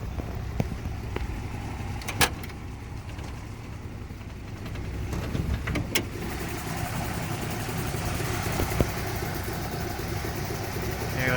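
A 1978 Dodge Aspen Custom sedan engine idles very quietly through its factory resonator, a soft, steady low hum near the microphone with a few faint clicks and taps on top.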